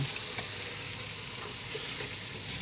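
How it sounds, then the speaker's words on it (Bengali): Spices for beef bukhari rice fry and are stirred in a pot, giving a dense, continuous sizzle with faint scraping, close and steady throughout. "ভাজা ভাজা হয়ে গেছে"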